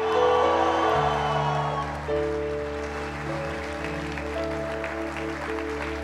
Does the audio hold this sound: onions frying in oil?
no